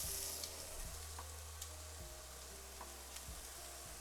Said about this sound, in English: Pancetta in. Listen to the sizzles.